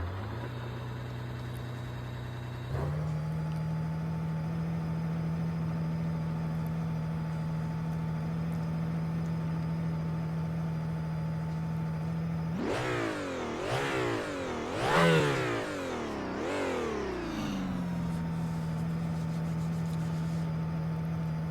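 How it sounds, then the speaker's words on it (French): An Aston Martin Valkyrie hypercar engine in the racing game Automobilista 2 hums in a steady, low, muted idle throughout, then revs sharply several times in quick bursts before settling back to idle. "Donc, le bruit du moteur, très feutré."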